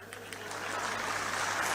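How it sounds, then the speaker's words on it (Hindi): Audience clapping at a Kumar Vishvas poetry recital, a dense, steady crowd applause that builds slightly in loudness across its short span with no voices on top. "तो ताली बजा।"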